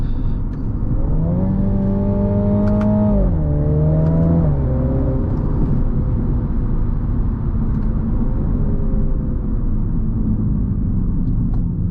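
A 2024 MINI Clubman JCW engine drones steadily at close range on twisty mountain back roads, its pitch rising and falling as it accelerates and shifts, with a continuous rumbling whir throughout.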